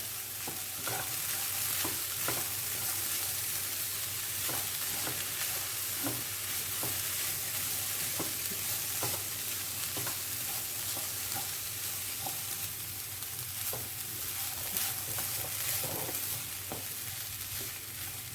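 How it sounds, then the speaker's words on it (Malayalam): Banana stem and green gram toran with coconut is stirred in a pan, a low steady sizzle broken by regular soft spatula scrapes throughout. "ഇത് നന്നായിട്ടൊന്ന് മിക്സ് ചെയ്തെടുക്കാം"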